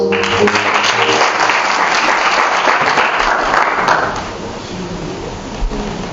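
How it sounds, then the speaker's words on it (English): Loud, sustained applause from a crowd at a celebration event in Letsitele fills most of the clip, then fades to a quieter patter of clapping near the end. "Another big round of applause."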